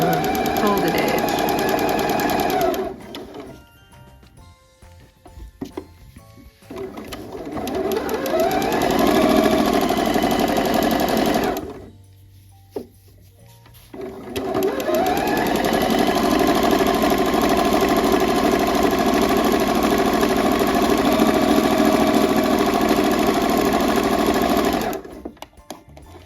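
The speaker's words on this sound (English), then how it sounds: "again straight stitch, and we're just stitching very close to the folded edge" A sewing machine runs a straight stitch along the folded edge of pajama fabric, whirring in long continuous bursts with brief pauses and a short stop partway through. A voice speaks over it at times.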